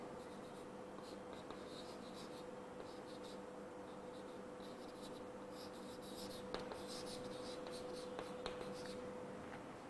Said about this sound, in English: So let us write this FD here.